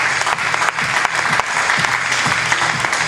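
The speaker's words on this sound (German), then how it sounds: "einen warmen Applaus." An audience at the 2013 TDC Rugendorf team introduction gives loud, continuous applause. The dense crowd clapping holds steady for three seconds without a break.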